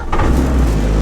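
A Renault Clio fitted with a K24 turbo engine pulls away with a loud, close, low engine roar that swells briefly as it accelerates, with no talk.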